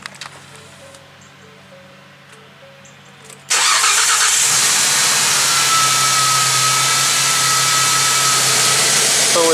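A quiet hum gives way to a car engine cranking and catching, then idling loudly and steadily close by for several seconds.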